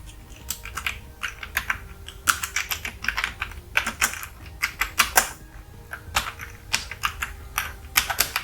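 Code being typed on a computer keyboard, with bursts of rapid key clicks separated by brief pauses, close and fairly quiet throughout with no speech.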